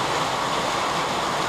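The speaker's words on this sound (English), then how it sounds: "It's raining. We're underneath the tin roof." Steady rain drums on a tin roof over a wooded spot, a dense, even hiss that fills the whole moment with no breaks or voices.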